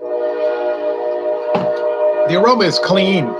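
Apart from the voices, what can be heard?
passing train with horn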